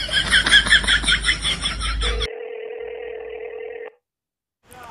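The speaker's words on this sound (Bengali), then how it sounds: "আমি ওর গার্লফ্রেন্ডে ফোন করে কয়া দেই" A telephone being dialed to call someone: a burst of warbling electronic tones, then a single steady tone that cuts off into silence before a brief noise returns, with no speech.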